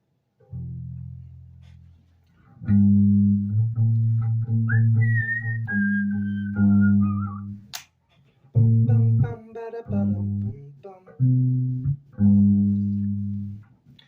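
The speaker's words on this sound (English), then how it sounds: "Why are you whistling?" Someone whistles a tune in short bursts, with a few notes held and brief pauses between phrases, close by.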